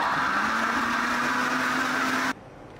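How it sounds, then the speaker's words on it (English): A Butchie Mix blender whirs steadily as it purees ginger and garlic paste, a loud continuous motor drone that cuts off abruptly near the end, leaving quiet room tone. "I'm using my Butchie mix blender to blend all my items today"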